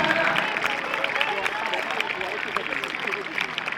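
An audience claps at the opening ceremony of a government high school in Raozan, a dense patter of applause mixed with crowd voices and chanting.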